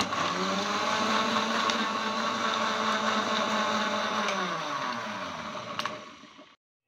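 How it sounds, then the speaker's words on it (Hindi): Kitchen blender whirring through green chutney ingredients with a little water, a loud continuous motor drone for about six seconds before it cuts off abruptly. "ये डाल दिया मैंने ब्लेंडर में और 1 मिनट के लिए मैं इसको ब्लेंड करूंगी"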